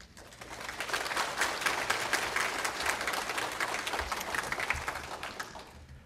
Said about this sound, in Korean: 이제 박동건 목사님 나오실 때 큰 박수로 환영해 주시기 바랍니다.